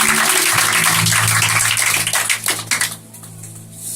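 A church congregation applauds in a loud, dense burst of clapping that thins out and fades near the end, with a low hum of music or voices underneath.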